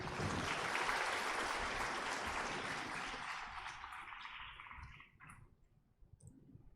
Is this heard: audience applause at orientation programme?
yes